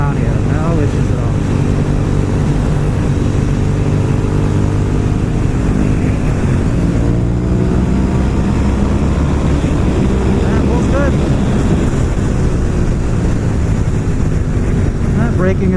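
Honda RC51 VTR1000 SP2 V-twin sport motorcycle carrying steady, loud engine drone through a corner, with rising and falling harmonic tones as revs shift; wind rush is constant and a rider talks over it.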